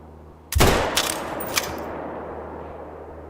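A rifle shot from a hunting game set in the wild, aimed at a buck: one sharp, loud crack with a long rolling echo, followed by two fainter distant reports fading into ambient outdoor background.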